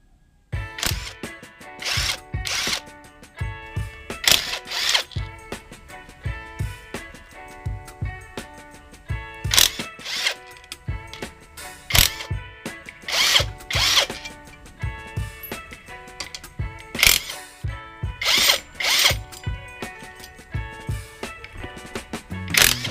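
A Reaim impact wrench loosening tight nuts, firing in repeated loud bursts of rapid hammering separated by brief pauses, close to the microphone with no talking.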